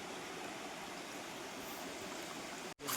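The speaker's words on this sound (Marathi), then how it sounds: "पाणीसुद्धा एकदम शांत शांत वाहत आहे" Calm stream water flows steadily at a gentle, even level, broken only by a brief dropout near the end.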